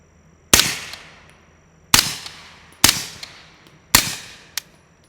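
SilencerCo Omega 9k suppressed AR9 carbine firing single shots during a failed bump fire attempt: four sharp, fairly loud reports spaced about a second apart, each with a short decaying tail, and no talking.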